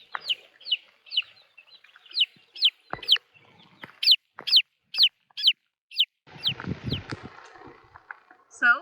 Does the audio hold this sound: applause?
no